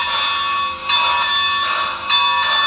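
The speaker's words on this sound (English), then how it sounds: "So let's hit the bell." A model train locomotive's bell, triggered from a JMRI throttle, rings loud and steady in rapid repeated strikes, with a slight pulsing rhythm throughout.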